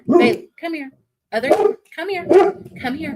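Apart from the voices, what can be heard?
dog barking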